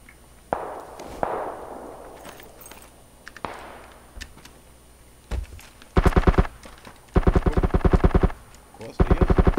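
Scoped rifle fire in PUBG: a few isolated cracks early on, then loud rapid bursts of automatic gunfire in three close clusters near the end, with faint background noise between.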